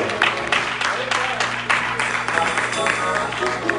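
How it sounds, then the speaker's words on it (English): A church congregation at a Church of God in Christ Sunday morning service claps in praise, steady dense applause with an organ chord sustained underneath and voices calling out over it. "Somebody give God a hand clap of praise right"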